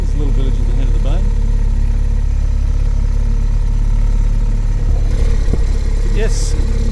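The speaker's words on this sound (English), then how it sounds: "today I'm motor sailing south down the coast of Malekula" A yacht's inboard engine drones steadily while motor sailing down the coast of Malekula, Vanuatu, a continuous low mechanical hum running throughout under ongoing talk.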